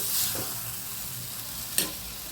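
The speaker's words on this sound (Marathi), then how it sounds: "त्यानंतर हे वांगे त्यात परतायचे. वांगे टाकून त्याच्यात परत चांगले फ्राय होऊन द्यायचे" Brinjal fries in oil spiced with chili, turmeric and salt, a soft steady sizzle with a couple of brief spatula scrapes against the pan.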